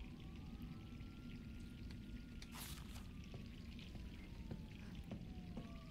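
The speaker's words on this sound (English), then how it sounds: "I hear like a faucet going off, or like the water running" Water pours steadily in Resident Evil 3, a quiet, constant faucet-like rush with faint drips and tonal creaks over it, and no voices.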